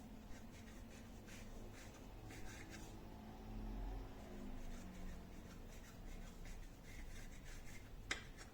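A sharp knife cuts through soft bugnes dough on a board, giving quiet rubbing, scraping strokes at close range with a low background hum.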